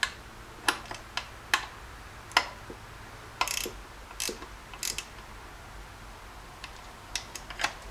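A ratchet tightens new screws on a Jeep 4.0L throttle position sensor, giving sparse, fairly quiet clicks in short irregular bursts with gaps between them over a low background hum, no talking.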